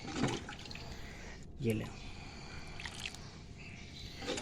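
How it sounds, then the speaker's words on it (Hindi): Water splashes and pours into a potted ginger plant at home, soft gurgling bursts under a man's nearby speech. "बस आपने क्या करना है, इसको आपने पानी दे देना।"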